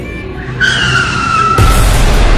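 A car screeches away with loud tire squeal: a sustained high skidding whine starts abruptly, then a heavy burst of engine and road noise takes over near the end, close and loud, with no voices.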